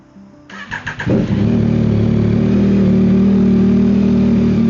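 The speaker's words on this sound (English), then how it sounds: "Let's start the bike up and we'll let it run for a few minutes" A Yamaha XSR900 motorcycle cranks for about half a second and fires up loud and close. It quickly settles into a steady, even idle that carries on alone, with the engine running after an oil and filter change.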